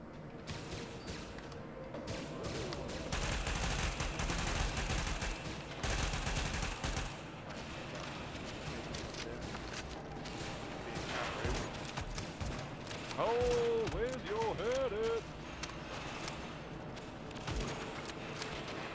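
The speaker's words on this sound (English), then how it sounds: "Blind fire." Blind-fire gunshots in a shooter game rattle in long rapid bursts, loud and close, with shots rolling on across the whole stretch and a voice briefly talking over them.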